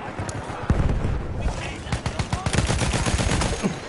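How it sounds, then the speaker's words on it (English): Machine gun fire in an online multiplayer shooter, with rapid bursts of automatic gunfire and scattered single shots building toward the end, loud and close, mixed with voice chat. "By those machine guns."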